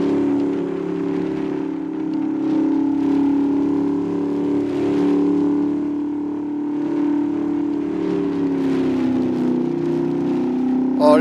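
A modded car's engine in a racing video game holds a steady, fairly loud droning hum at near-constant revs, sliding slightly lower toward the end, with no talking over it.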